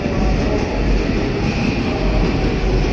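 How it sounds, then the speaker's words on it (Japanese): A JR 223 series special rapid train at Osaka Station rumbles steadily and loudly alongside the platform, with continuous rolling wheel noise and no voices. "これは新快速電車、網干方面に行く列車です。"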